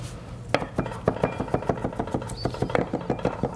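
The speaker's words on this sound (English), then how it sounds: "chopping that right up" A knife chops vegetable stem ends on a cutting board, with quick, fairly regular sharp knocks close by and no talking.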